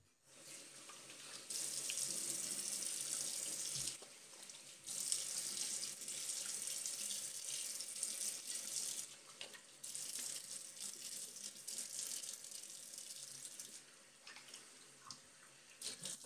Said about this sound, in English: I'm going to rinse off real quick.